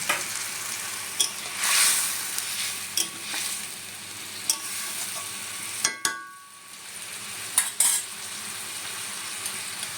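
Eggs cooking in a coconut milk curry with hog plum, a steady sizzle and bubbling broken by repeated scrapes and clinks of a spoon stirring against the pot, close and clear with no talk.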